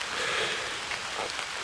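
Rain falls steadily during a canoe-camping portage in the Adirondacks' Essex Chain Lakes, a close, even hiss with a few faint drips on top.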